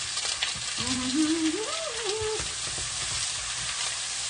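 Eggplant fries in a pan on a stovetop for ratatouille, giving a steady, close crackling sizzle throughout. A brief vocal hum rises and falls over it in the middle.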